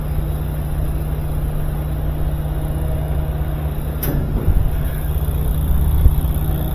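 A GE washing machine runs on a newly installed motor with a fitted drive belt, giving a steady low mechanical hum and drone with a brief click partway through and no talking.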